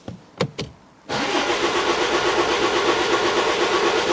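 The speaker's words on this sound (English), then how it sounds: "So I'm going to try and start it now." An Audi A5/A4 engine fires up after a fuel filter replacement: two short cranking bursts, a brief pause, then the engine catches at about one second and settles into a steady, loud idle.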